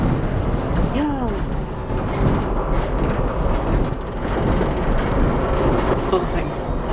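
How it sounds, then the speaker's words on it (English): Loud passing train rumbling with steady broadband roar and clatter of rail cars throughout, a voice exclaiming briefly near the start. "Oh my god, this train is so loud"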